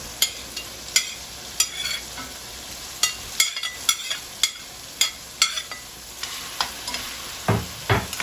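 Saltfish being stirred in a pan for sweet potato dumplings, a series of sharp, regular scraping strokes of a utensil over a soft, continuous sizzle, close and clear.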